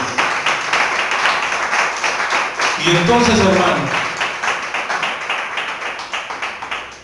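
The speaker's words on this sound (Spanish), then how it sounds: "Den una ofrenda de palmas al Rey de Reyes" Congregation clapping hands together in a church, a dense steady patter of many palms under a preacher's voice, with a brief burst of singing or chanting in the middle.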